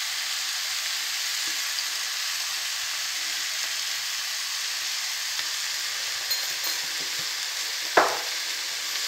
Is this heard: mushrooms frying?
yes